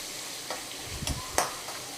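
Onions are stirred as they sauté in a pan, giving quiet sizzling with a few brief scraping stirs in a short moment.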